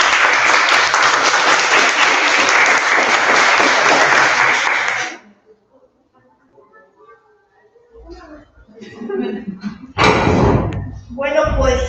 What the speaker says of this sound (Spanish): Pues un aplauso enorme, por favor.